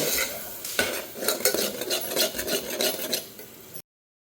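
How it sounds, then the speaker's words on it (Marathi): Masala roasting and being stirred in a pan, a steady scraping and rubbing of the spoon with a soft sizzle underneath, close and continuous, ending abruptly. "आणि मसाला छान भाजून"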